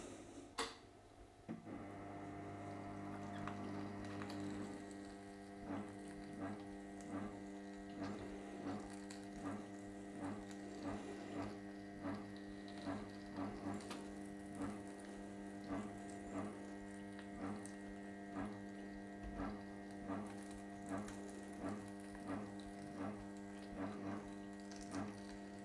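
A sausage stuffer packs semi-firm cabanossi meat into wetted casings, giving a steady mechanical whir with a regular train of soft clicks or ratchet ticks repeating throughout, close and moderately loud with no talking.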